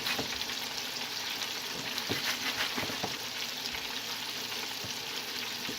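Gluten-free turkey fingers in a cornflake crumb crust fry in a pan with a steady, close sizzle of hot oil, dotted with occasional pops and crackles throughout.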